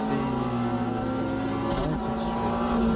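Porsche 963 LMDh race car in a racing video game, its engine droning steadily at high revs with a continuous tonal whine, loud and close throughout with no talk.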